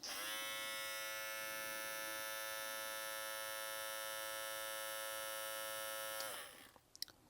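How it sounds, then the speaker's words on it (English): A BaByliss Tomb 45 hair clipper runs on its low setting with a steady, buzzing electric motor hum, then is switched off and winds down, leaving a few small handling clicks. "let's see how the T45 clipper comes in with sound on the low setting"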